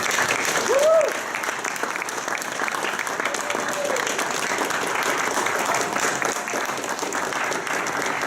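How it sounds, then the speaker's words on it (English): Steady applause from an audience at a team pitch competition fills the whole stretch, dense clapping with a faint voice briefly rising near the start. "let's get ready to give a round of applause to the black team."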